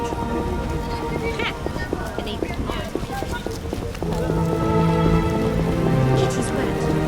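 Rain falls in The Witcher computer game, a steady hiss of drops under game music and effects, growing a bit louder halfway through; hoof clip-clops and voices sound over it.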